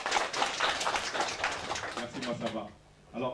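Applause from an audience at a launch ceremony: a crowd claps steadily for a couple of seconds, then the clapping dies away as someone speaks over it.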